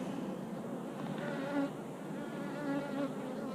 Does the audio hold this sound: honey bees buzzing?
yes